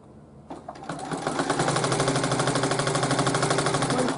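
After a couple of soft starts, a sewing machine stitches a long pillowcase seam, settling into a loud, continuous rapid chatter of needle strokes up close.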